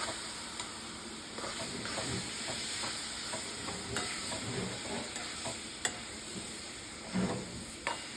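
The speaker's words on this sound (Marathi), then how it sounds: "जोपर्यंत आपली साखर आणि गूळ छान असं मेल्ट होत नाही तोपर्यंत मस्त आपण मंद गॅसवरती आपलं सारण परतून घेणार आहोत" Sugar, jaggery and a mango-coconut filling being sautéed over a low gas flame, a constant quiet sizzle and hiss with occasional light scrapes and taps of the stirring spoon, close and without talk.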